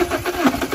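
An Alfa Romeo engine fresh from spark plug and EGR valve work catches and runs rough in a short, close, pulsing burst of uneven combustion.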